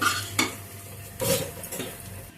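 Egg being stirred in a pan for egg noodles, with a few close scrapes and clinks of a utensil over faint sizzling, no talk.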